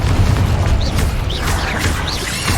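Confringo fire-blast spell from Hogwarts Legacy, loud booming bursts layered over a dense, steady rumble of game effects, with several rising whooshing flares across a short stretch and no clear talk.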